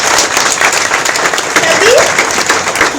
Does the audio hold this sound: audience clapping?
yes